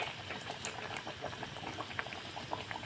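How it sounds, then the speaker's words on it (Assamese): Dhakai paratha frying in oil in a home kitchen pan, a steady dense sizzle with crackling pops scattered throughout, close and continuous with no talking. "নিশ্চয় দেখা পাইছে মই কেনেদৰে পৰঠাটো ভাজি লৈ আছোঁ"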